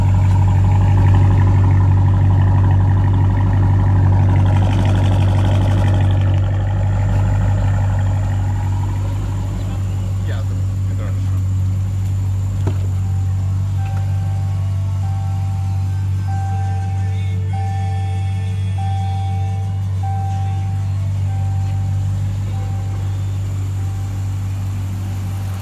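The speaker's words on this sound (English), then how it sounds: "Not many times I get customers saying it's a little too loud, but they did a wicked job on the exhaust system" Dodge R/T car engine with a new aftermarket exhaust system, a steady loud low rumble from close by with a slight rise in revs early on, running throughout with no talking.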